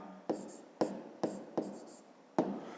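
Pen strokes on paper during a fifth-grade geometry exercise about naming a triangle's sides, five quick separate scratches evenly spaced and close up, each fading briefly before the next.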